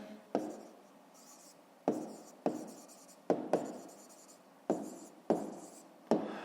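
Pen writing by hand during a fifth-grade maths exercise: close, soft scratchy strokes in repeated bursts, each starting with a sharp tap of the pen on paper and trailing off, with no talk.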